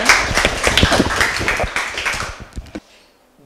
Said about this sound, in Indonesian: silakan tepuk tangan buat si